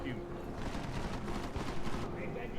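Gunfire in the video game Deus Ex: Mankind Divided comes as a dense, continuous burst of shots throughout, loud and rough, with a voice heard faintly under it.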